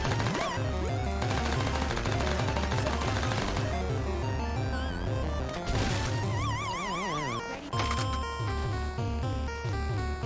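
Guns firing in the VR game H3VR: loud, rapid bursts of shots repeat over several seconds, mixed with clattering impacts and a busy background that includes wavering musical tones.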